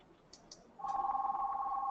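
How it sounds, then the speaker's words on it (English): An electronic phone ringtone starts after a couple of faint clicks and trills continuously in a steady warbling pattern, moderately loud, with no voices over it. "the phone's ringing"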